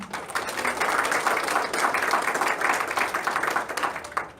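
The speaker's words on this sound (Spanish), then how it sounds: "Un aplauso para el Señor." A church congregation at a Spanish-language service claps steadily and densely for about four seconds, a full, continuous wash of hands at an even loudness with no voices over it.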